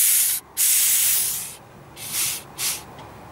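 Refrigerant gas hissing out of a mini split line through a valve core remover: a loud, bright spraying hiss close by, interrupted by a brief cut, then fading and returning in two shorter bursts.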